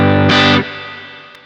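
Electric guitar with humbucker pickups, run through a rec head into a Boss Katana amp set at the edge of breakup with amp reverb, plays one loud, slightly gritty chord that cuts off and leaves a fading reverb tail.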